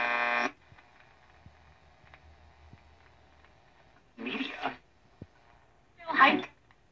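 A homemade triode medium wave oscillator transmitting near 1 MHz is picked up on a radio as a faint steady buzzing tone, with short bursts of someone talking at the start and near the end.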